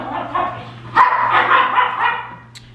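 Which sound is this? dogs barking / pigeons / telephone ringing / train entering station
dogs barking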